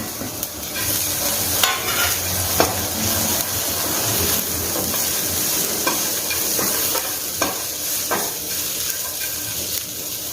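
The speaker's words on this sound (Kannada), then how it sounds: "ಈಗ ಇದಕ್ಕೆ ಶುಂಠಿ ಬೆಳ್ಳುಳ್ಳಿ ಹಾಕ್ತಾ ಇದ್ದೀನಿ ಮತ್ತು ಸ್ವಲ್ಪ ಹಸಿ ಕೊಬ್ಬರಿ ಮತ್ತು ಒಂದೇ ಒಂದು ಮೆಣಸಿನ್ಕಾಯಿ ಹಾಕಿ ಇದನ್ನು ಸರಿಯಾಗೆಲ್ಲನೂ ಹುರ್ಕೊಳ್ತೀನಿ" Ginger, garlic, fresh coconut and a single green chili frying in a pan for capsicum curry, with a steady loud sizzle broken by a few sharp scraping stirs and clicks, with no talking.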